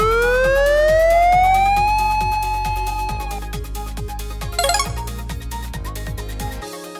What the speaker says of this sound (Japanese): パトカーだよ。